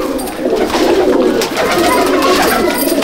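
A flock of old-breed pigeons in a loft in Icchapur coos loudly nearby, low rolling calls overlapping into a steady, crowded murmur that barely dips.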